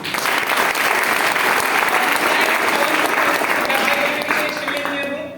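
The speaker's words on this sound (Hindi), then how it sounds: "अगर अभी तक का सेशन पसंद आया हो तो तालियां बजाइए" An audience at a motivational entrepreneurship seminar applauds the session, loud sustained clapping from a large crowd that holds steady and tapers slightly at the end, with a faint tonal hum underneath.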